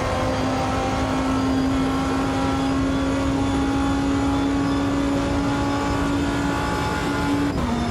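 A race car engine in the racing sim Automobilista 2 holds a loud, steady high-revving drone with a strong sustained tone, followed by a brief pitch drop near the end, with no talking.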